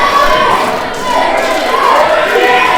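A wrestling crowd at an indie pro wrestling show in Murphysboro roars and cheers steadily in a loud, dense wash of noise that never lets up, while a commentator talks over it.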